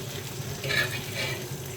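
Katla fish frying in hot oil, a steady close sizzle that swells briefly louder midway before settling back to an even crackle.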